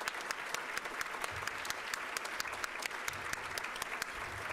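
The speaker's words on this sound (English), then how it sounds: "we'd like to give you a round of applause" Guests at an anniversary gala applaud, a fairly faint but steady wash of many hands clapping without pause.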